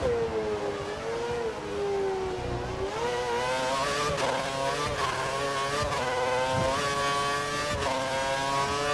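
A high-pitched Formula 1 engine in the game F1 2013 whines continuously, pitch rising and falling with gear shifts, loud and close with no talking.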